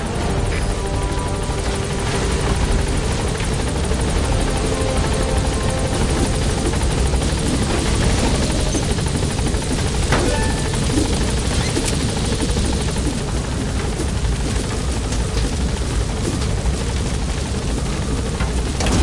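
Helicopter rotor and engine in Metal Gear Solid V: The Phantom Pain, a steady loud thumping drone that holds for the whole stretch as the aircraft climbs, with no voices over it.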